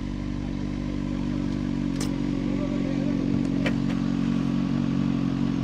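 A CFMOTO sport motorcycle engine hums steadily at cruising speed, with a low harmonic drone and a couple of brief clicks or clatters.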